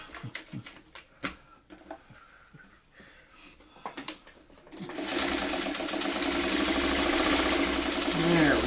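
Sewing machine stitching quarter-inch seams on quilt pieces for a rosebud mini quilt, first a few short bursts between pauses, then a loud, steady, continuous run of fast stitching close by.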